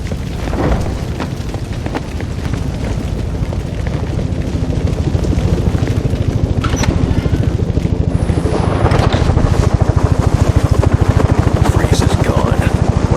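A helicopter in Batman: Arkham Origins pulls away, its rotor chop beating steadily and loudly throughout over a rumbling, wind-buffeted roar that holds strong the whole time.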